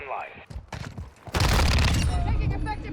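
A Fennec 45 submachine gun fires in a video game, with a few scattered shots and then a sustained loud burst of rapid automatic fire lasting over a second.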